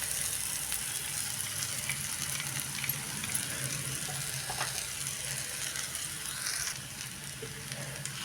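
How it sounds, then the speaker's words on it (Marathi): Crumbled chapati sizzles gently in a pan over a low flame with turmeric, a soft, steady frying hiss that holds quietly for several seconds without any voices. "आणि आता त्यामध्ये ही बारीक केलेली चपाती टाकून घ्यायची आहे."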